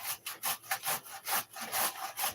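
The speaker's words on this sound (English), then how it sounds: "grating my cabbage" Half a cabbage is grated for coleslaw in a kitchen, making quick, rhythmic rasping strokes, about four per second, that are close and fairly quiet.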